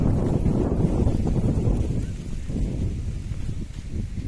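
Strong wind buffets the microphone in a steady low roar, loud and continuous throughout, with no voices.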